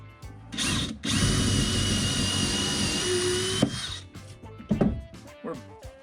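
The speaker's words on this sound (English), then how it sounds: "Drill a hole here." A power drill whines at high speed for about three seconds as it bores into reclaimed wood, with short bursts and clattering handling noises before and after.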